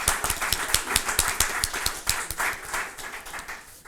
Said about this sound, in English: Let's give Jay Gyra a round of applause.